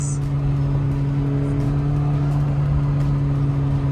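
A McLaren sports car on a test drive at about 35 miles an hour, its engine a steady, even hum from inside the cabin with no speech.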